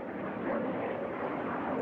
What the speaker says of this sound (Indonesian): Sebuah pesawat jet terdengar mendesau keras lewat di atas bangunan apartemen jet.